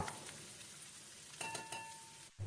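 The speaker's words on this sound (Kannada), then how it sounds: "ಈರುಳ್ಳಿ ಸ್ವಲ್ಪ ಕಲರ್ ಚೇಂಜ್ ಆಗಬೇಕು ಅಲ್ಲಿವರೆಗೂ ಒಂದೆರಡರಿಂದ ಮೂರು ನಿಮಿಷ ಈ ತುಪ್ಪ ಮತ್ತು ಎಣ್ಣೆ ಜೊತೆನಲ್ಲೇ ಫ್ರೈ ಮಾಡ್ಕೊಳ್ಳೋಣ" Onions fry in ghee and oil for a ridge gourd kootu, giving a soft, steady sizzle with a few faint stirring clinks and scrapes in the pan, quiet and continuous.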